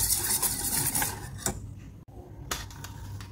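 Eggs seasoned with salt and chopped coriander are whisked in a bowl for an omelette. The utensil makes a quick, scraping clatter against the bowl, continuous and close, with a short break midway before it resumes.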